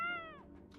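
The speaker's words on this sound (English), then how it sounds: "What is that like meowing crying sound?" A cat-like meow added to a video game by a mod, one short drawn-out crying meow that fades quickly, alone without talk.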